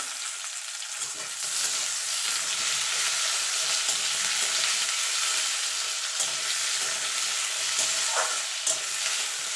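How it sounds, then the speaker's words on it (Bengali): Ginger, green and dried chillies and tomato fry in oil for a Bengali egg curry, a continuous bright sizzle with stirring scrapes that grows louder after the first second, with no talk. "এবার এই মশলাগুলো একসঙ্গে দিয়ে দেবো তেলের মধ্যে দিয়ে একটুখানি ভাজা ভাজা করে নেবো"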